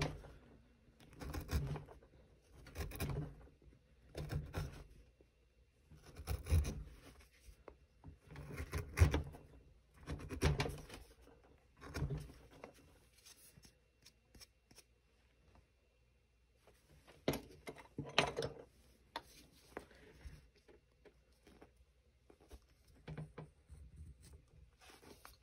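A knife carves wood for a Santa figure, pushed along by the thumb, producing soft, close scraping and shaving strokes that come in irregular bursts separated by quiet pauses.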